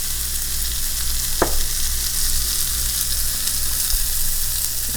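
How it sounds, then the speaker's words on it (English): Broccoli sautéing in butter in a pan: a loud, steady, close sizzle fills the whole stretch, broken once by a single sharp utensil tap, and no one speaks. "Now I'm just gonna saute my broccoli in my butter."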